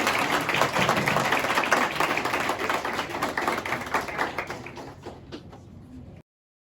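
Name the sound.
audience applause for winning hackathon group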